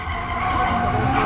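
A BMW M3 fitted with a 500 hp, 3-litre turbocharged Toyota Supra engine drifts at a motor show, tyres squealing and engine roaring loud and close in a continuous burst.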